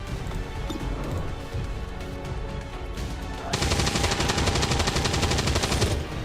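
Continuous dense gunfire from the video game XCOM 2 rattles throughout, with a louder, brighter burst of rapid automatic fire kicking in halfway and running steadily to the end.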